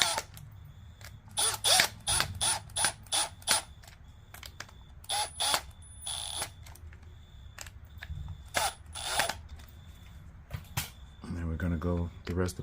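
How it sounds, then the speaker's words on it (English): A drill driving a screw into a welder generator cable plug, a three-wire to four-prong plug, in short whirring bursts with brief gaps, close up, followed by steadier handling noise. "I'm gonna use the drill again to tighten this down"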